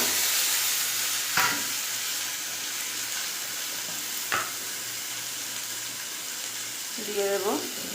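Potato and onion drop into hot oil with toasted Bengali five-spice in a wok, and a loud sizzle follows. It carries on steadily, with a couple of sharp utensil clicks and a burst of stirring near the end.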